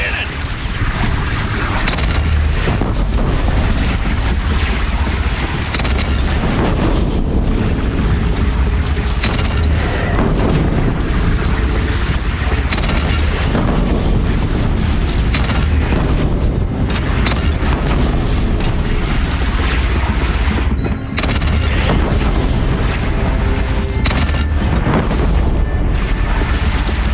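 Cannon fire in Horizon Zero Dawn comes as repeated heavy booms amid dense, continuous battle noise, loud throughout, with voices talking over the fighting.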